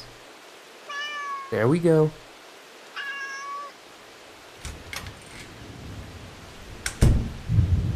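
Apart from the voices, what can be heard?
cat meowing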